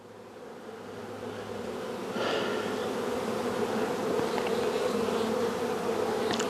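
Honey bees hum steadily around an opened hive during a spring inspection after winter, a dense, continuous buzz that swells slightly louder partway through with no voices.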